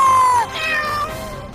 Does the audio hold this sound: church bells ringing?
no